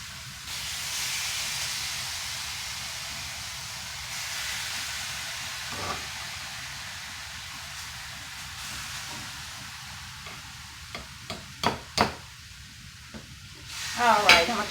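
Six pounds of ground turkey go into a hot pan, setting off a loud, steady sizzling hiss that gradually softens, followed near the end by a few sharp clinks and scraping stirs, with no one talking.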